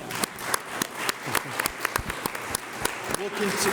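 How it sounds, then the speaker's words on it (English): Audience applause with scattered sharp claps, some voices under it, fading toward the end. "A round of applause for Kalina."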